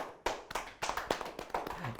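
A small group claps at a marketing coaching class, a few sharp, uneven hand claps spread over a couple of seconds, fairly close and fading between bursts.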